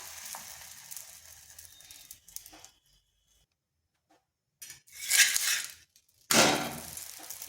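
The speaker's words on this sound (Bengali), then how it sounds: "এরপর ভেজে নিচ্ছি। এখানে আপনারা ঘিও দিতে পারেন, আমি কিন্তু রিফাইন তেল দিচ্ছি।" Cauliflower paratha frying in refined oil on a hot tawa over low flame gives bursts of loud sizzling, with quieter stretches and a pause between them; no one talks.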